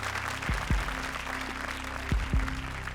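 Loud applause from a studio audience on a Hindi comedy show, cheering contestants Kuldeep and Shayantani; a steady wash of clapping with a few heavy low thumps, no voices.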